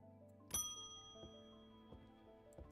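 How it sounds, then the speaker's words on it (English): A bright, tinkling chime in the video game Strange Antiquities, like little wind chimes: one clear, loud bell-like strike rings out with a long sustained shimmer, followed by a few softer taps at steady intervals over a low ambient hum. "It tinkles. It's like little wind chimes."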